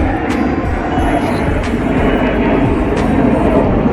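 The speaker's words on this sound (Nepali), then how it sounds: "हल्ला गरेर फाइटर प्लेन हिँडिरहेको छ" A fighter jet flies overhead near a metro station by Al Bidda Park, its loud, continuous broadband roar steady throughout.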